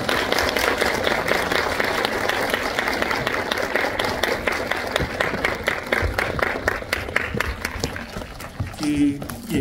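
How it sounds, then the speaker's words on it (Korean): Sustained applause from an audience, steady and fairly loud, with many hands clapping continuously throughout. "큰 박수 보내드리면서 마무리하겠습니다"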